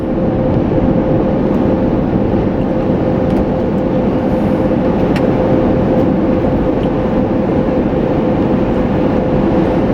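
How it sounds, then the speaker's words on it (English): Steady broadband whoosh of a car's air conditioning blowing on a hot day inside the vehicle, loud and constant throughout with a faint tonal hum and no talking. "Every time I turn my air conditioning on, somebody comments about how you guys can't hear in the car because of the air conditioning."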